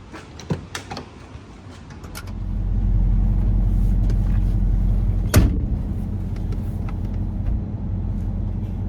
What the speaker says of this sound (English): we got the 1990 Ford truck running up to snuff